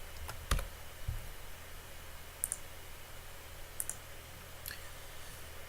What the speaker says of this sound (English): We are also going to test our special keys, the less common keys.